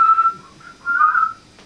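A single person whistles a short tune in two phrases separated by a brief pause, clear and fairly close with no talking.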